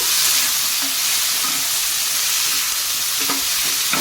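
Thickly cut onion and tomato frying in a hot pan for masala puri, a loud continuous sizzle with faint stirring scrapes, no voices.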